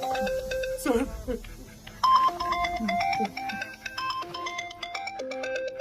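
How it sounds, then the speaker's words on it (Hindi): A melodic phone ringtone plays in repeated tonal phrases, fairly close, with brief voices mixed in. "फोन बज रहा है।"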